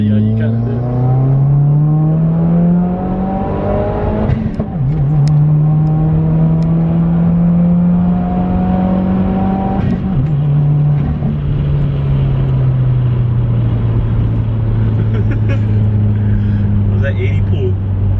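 A 2015+ Subaru WRX fitted with a Process West charge pipe accelerates hard through the gears, a loud interior engine drone climbing in pitch, dipping at each shift and rising again, with people talking over it.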